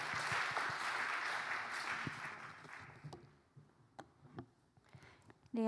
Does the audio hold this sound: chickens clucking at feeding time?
no